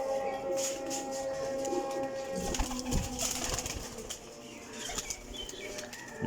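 Pigeons at a dealer's loft flap their wings in brisk bursts of fluttering while low cooing carries on beneath, close and fairly loud, with a rustling noisy background.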